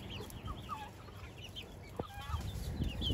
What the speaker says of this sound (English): That was a broiler saying, I need to go in the freezer.